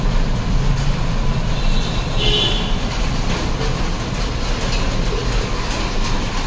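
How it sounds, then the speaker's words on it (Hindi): A loud, dense, continuous roar of heavy rain, steady throughout without pauses or voices. "यहाँ पर तो हो रही है तगड़े वाली बारिश"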